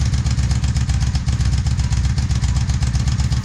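A Honda Magna cruiser motorcycle engine runs at a steady idle nearby, a loud even low throb with rapid regular pulsing and light mechanical clatter throughout, its carburetors slightly out of tune.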